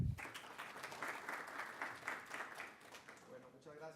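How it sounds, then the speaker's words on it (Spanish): An audience at a university lecture on the construction industry welcomes a speaker with steady, dense clapping that fades near the end as a voice begins to talk. "Recibámoslo con un fuerte aplauso"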